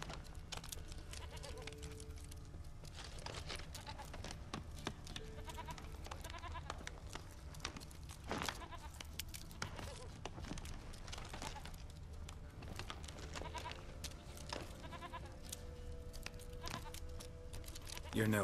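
A goat bleats repeatedly in The Witcher 3, its wavering cries recurring over a steady background of game music and ambience, with a brief voice at the end.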